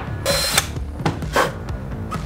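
Power drill boring a hole into a 2015 Duramax pickup, with several bursts of high whirring and ratcheting separated by short pauses, close and loud.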